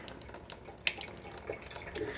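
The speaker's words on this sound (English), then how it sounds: "You press on for half a second and you have your pure water." Purified water runs steadily from the tap of a Revelation II alkaline water ionizer, a soft continuous splashing with a small click partway through.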